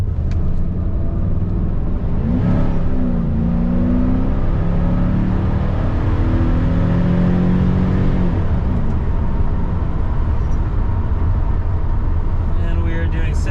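A 1988 Mercedes-Benz 560SL engine at full throttle while merging onto a highway, a loud continuous roar whose pitch climbs, drops at a gearshift and climbs again, heard from inside the car.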